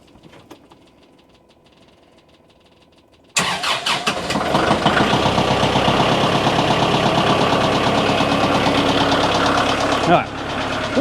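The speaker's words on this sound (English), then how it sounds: "I'm gonna fire the tractor up, get that warmed up" After a quiet few seconds, a tractor engine cranks and catches abruptly on a chilly morning at a firewood-processing site, then settles into a loud, steady, knocking diesel idle close by, with a brief dip near the end.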